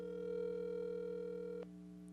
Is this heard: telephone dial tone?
yes